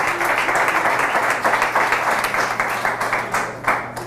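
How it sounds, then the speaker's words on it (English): An audience claps in a dense, sustained round of applause for a hip hop author, loud and continuous, with no speech over it. "Let's give him a round of applause."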